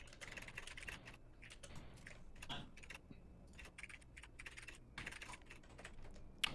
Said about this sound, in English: They can hear your typing.